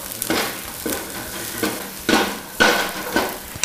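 Sliced peppers sizzling in a hot frying pan as they are tossed, a steady fry hiss punctuated by several rhythmic scraping tosses and light metallic clinks of the pan.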